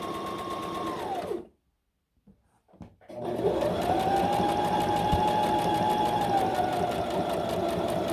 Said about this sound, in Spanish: Y seguiré cosiendo hasta llegar a la orilla de abajo.